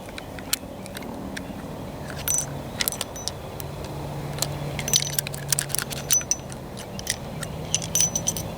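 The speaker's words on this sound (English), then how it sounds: "Push it down, it releases the cylinder. It spins" A Charter Arms Bulldog .44 Special revolver has its cylinder released and spun, producing a run of light metallic clicks and ticks, close up, over a faint steady background hum.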